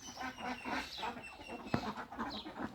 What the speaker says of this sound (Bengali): এই যে আমার হাঁস খেয়ে খেয়ে খালে চলে যাচ্ছে